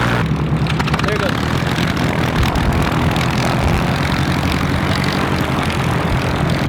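Propeller airplane at the Sun n Fun airshow, a loud continuous engine drone holding steady throughout, with voices faintly mixed in.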